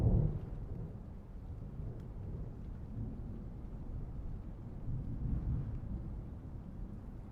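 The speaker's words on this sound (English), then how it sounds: "My favorite sound is distant thunderstorms." Distant thunderstorm: a low, soft rolling rumble with a faint wash of rain, quiet and far off throughout, with no voices.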